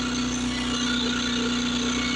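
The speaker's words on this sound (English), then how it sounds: "I've got the little generator running. It's running off of propane." A small propane-fuelled backup generator runs steadily with an even, humming engine tone, heard faintly from a moderate distance with no talk.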